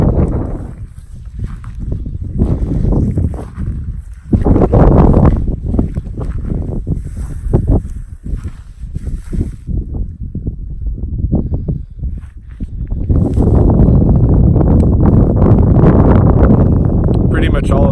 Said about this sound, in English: you can hear it's getting a bit windy